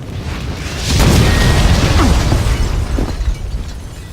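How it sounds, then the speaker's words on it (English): A building packed with explosives blows up in the Max Payne 2 video game, a loud rumbling boom that swells after a second and rolls on with crashing debris and rattling for several seconds. "The building's blowing up."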